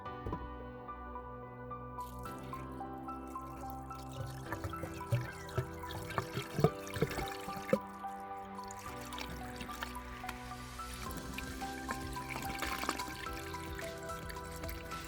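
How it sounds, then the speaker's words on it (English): Screen wash mixed with water is poured into a car's windscreen washer reservoir, making a faint, steady trickle and gurgle with scattered drips and splashes over about fifteen seconds, with no talking. "we're going to pour our screen wash into here."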